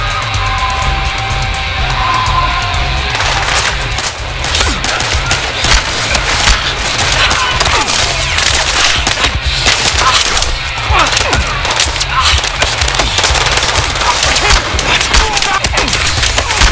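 Battlefield gunfight with continuous loud shooting and cracking impacts, with voices mixed in and the chaotic clatter sustained throughout.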